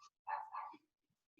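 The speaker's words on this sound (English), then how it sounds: "Sorry about the dogs." A few short dog barks, with one bark-like burst standing out and a faint yip near the end, heard during an online youth storytelling session over a quiet room.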